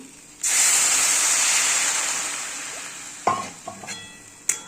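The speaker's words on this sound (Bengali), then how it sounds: "এবার আমি একটু জল দিয়ে দেবো, গরম জলই দেবো আমি" Hot water poured into a pan of frying potato and okra sets off a sudden loud hissing sizzle that slowly fades, followed by a few clinks and knocks of a utensil against the pan.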